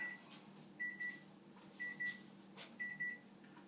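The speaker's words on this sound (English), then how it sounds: "The timer is going off." A kitchen timer going off while cookies bake, three short bursts of paired high beeps at a steady interval over a quiet kitchen hum, with a few soft clicks between them.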